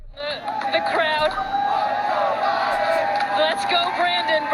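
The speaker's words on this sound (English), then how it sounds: "The crowd." A large rally crowd roars and chants together, the dense, continuous wall of voices staying loud throughout with scattered whoops and shouts rising above it.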